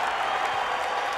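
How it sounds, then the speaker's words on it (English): A crowd at a skateboarding event applauds and cheers, a steady wash of clapping and distant voices with no pauses over the short stretch. "you can see them cheering him on right now"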